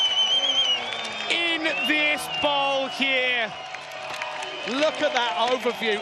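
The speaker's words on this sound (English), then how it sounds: "The crowd are screaming" A crowd at the Red Bull Bowl Rippers skateboard contest screams and whoops, with high wavering cries rising and falling over a steady roar, while a commentator talks over the noise.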